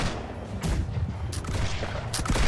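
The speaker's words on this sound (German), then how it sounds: "Ich werde einfach lang und schieße jede Kanone ab, die wir so haben." Rapid bursts of cannon fire and explosions in the naval game Black Wake, loud and continuous, with sharp broadband blasts recurring every second or so over a dense rumbling background.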